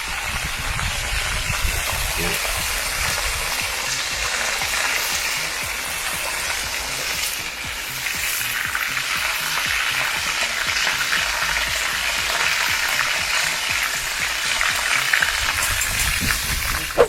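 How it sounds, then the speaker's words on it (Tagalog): Steady loud sizzling of sauce being sautéed in a hot pan outdoors, a dense continuous hiss up close with occasional stirring and a voice underneath. "maggigisa na tayo ng pinakasarsa natin"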